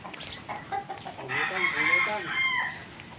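A Rhode Island rooster crows close by in a long drawn-out call, with some faint background noise and a few softer sounds before it.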